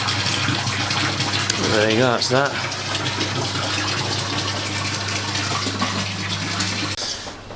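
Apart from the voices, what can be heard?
water draining from a fish tank drum filter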